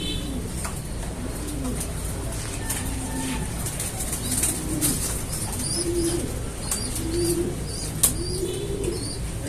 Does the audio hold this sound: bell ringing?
no